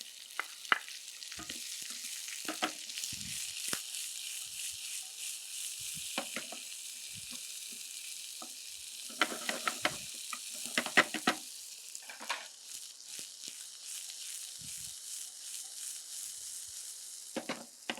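Onions fry in a pan with browned cumin, a steady soft sizzle broken by intermittent scraping stirs and clicks of the spoon, close and fairly quiet.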